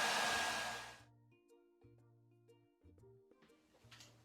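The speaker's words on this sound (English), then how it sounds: "while you're drying with the hair dryer" A hair dryer blows loudly on a ceramic slab soap dish, then switches off after a second, leaving quiet gentle music with soft faint handling noises.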